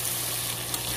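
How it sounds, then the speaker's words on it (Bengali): Fish and spices sautéed in a pan with garlic give a steady, close sizzle and fry, unbroken and without talk, lasting about a second. "এখন আমি কষাচ্ছি ভালোভাবে।"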